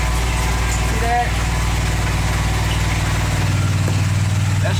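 Honda GX630 engine on a 3500 psi, 5.5 gpm pressure washer running steadily at close range, a loud even drone with a faint rattle and a slight drop in tone near the end.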